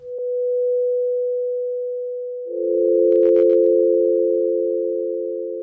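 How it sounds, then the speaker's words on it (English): A smooth, sustained synthesizer pad tone holds steadily, then swells into a thicker, richer layered chord partway through, with a faint brief crackle. "This is going to give us more of that pad sound."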